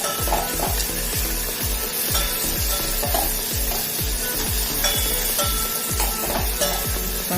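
Tomatoes and onion frying in a pan for a Maharashtrian val bean curry, a steady loud sizzle with a rhythmic scrape of stirring roughly twice a second, close up with no talking.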